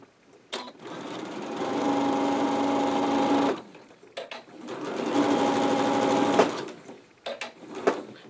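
A sewing machine runs in two sustained bursts while stitching and back stitching the lining of a face mask, its close, steady mechanical hum broken by brief clicks and pauses between runs.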